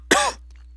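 A single harsh cough, close and loud, bursting out alone for a fraction of a second before quiet returns, with a faint steady hum underneath.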